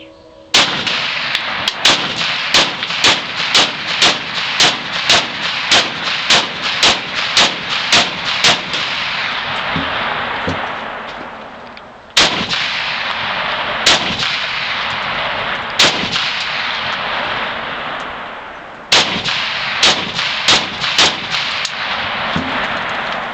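A Norinco SKS rifle fed from a Tapco 20-round magazine fires Czech 7.62x39 low-recoil hollow-core rounds outdoors: sharp, loud cracks in a quick, steady string, a pause, then two more short volleys.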